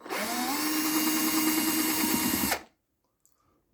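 A power screwdriver backing screws out of a Vox AC-15 guitar amplifier, one loud close whirring run of about two and a half seconds that cuts off abruptly, leaving near silence with a faint click.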